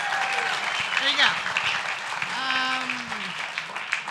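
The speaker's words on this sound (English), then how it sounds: "Let's give Jeremiah a round of applause." An audience applauds for a fourth-grade student at a Santa Ana city council meeting, with steady clapping carrying through the whole stretch while voices talk over it.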